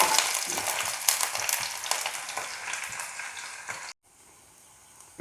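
Fenugreek seeds, panch phoron and garlic sizzling in hot oil, a bright crackling fry with stirring scrapes for about four seconds, then the sizzle drops sharply to a faint hiss before a sudden bump at the end.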